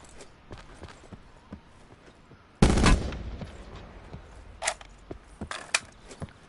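Gunfire in Fortnite: one loud, close blast with a brief rumbling tail, then scattered fainter shots popping at a distance against an otherwise quiet background.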